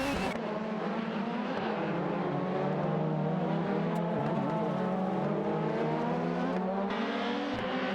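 Several racing-game cars, a Renault 19 and a Peugeot 406 among them, battle for position in steady, close engine drone with shifting revs throughout, no voices.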